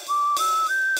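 Whistled notes from a character in the Sprunki music game: three steady, clear tones, each a step higher than the last, separated by short percussive bursts.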